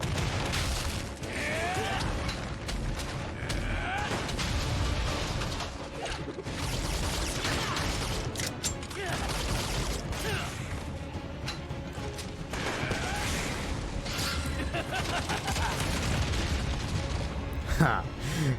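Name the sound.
shotgun gunfire from a gunner class in the video game Lost Ark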